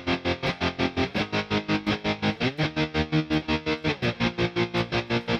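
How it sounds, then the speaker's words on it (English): An electric guitar with heavy distortion plays chords chopped by a fast sixteenth-note tremolo into an even stream of rapid pulses, with the chords changing a few times over about five seconds. "If you've added those exact tremolo settings to a nice distortion sound"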